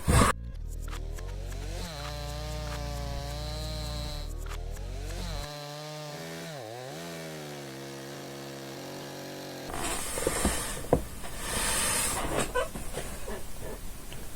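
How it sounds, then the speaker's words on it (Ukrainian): A petrol chainsaw revs and bogs repeatedly as it cuts wood, its engine pitch rising and falling, then the sound turns to a rougher, hissy grinding through the wood near the end. "І ось я вам показую, як бензопила пиляє."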